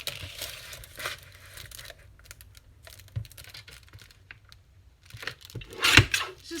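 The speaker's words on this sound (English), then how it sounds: "I'm just going to cut this edge off." A cutter trimming the edge off a sheet of paper for junk journal tags, close papery crinkles and scraping rasps in short bursts with quiet gaps, ending in a louder crisp rustle.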